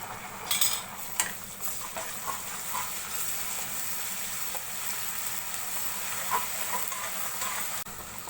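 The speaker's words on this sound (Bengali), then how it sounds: "পেঁয়াজটা হালকা একটু ভেজে নেব।" Onions frying lightly in a pan, making a soft, steady sizzle with a few faint clicks and taps near the start.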